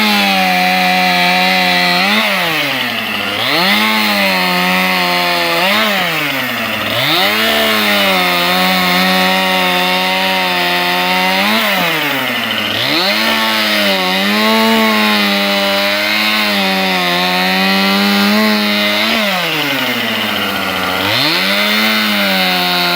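A chainsaw cuts downed wood into firewood-sized pieces, its engine loud and close throughout, with a steady roar that dips and rises again every few seconds as the chain bites through each cut.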